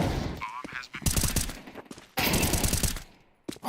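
Gunfire from a Counter-Strike 2 esports match, heard at a low level as several sharp shots and short bursts mixed with game noise, spread across the clip.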